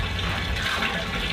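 Water runs out of the drain outlet of a chicken house waterer into a container outside, a steady close splashing trickle that continues without pause.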